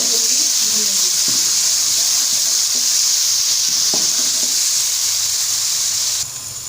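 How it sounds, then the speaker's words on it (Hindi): Ginger garlic paste fries with browned onions in a pan, giving a loud, steady hiss and sizzle with occasional spoon scrapes and taps throughout. "अब हम इसके अंदर लहसुन अदरक का पेस्ट शामिल कर देंगे और इसको हम 1 मिनट के लिए भूनेंगे"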